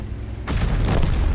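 A sudden deep boom of a tank cannon shot in the video game World of Tanks, from a Scorpion G, loud and close, followed by a rumbling, crackling tail of noise with no talking.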